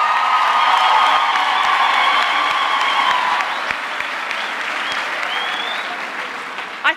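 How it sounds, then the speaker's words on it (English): A crowd at a university graduation ceremony claps loudly and continuously for the graduates, with a few scattered cheers, the applause slowly fading toward the end. "let's give them a big applause"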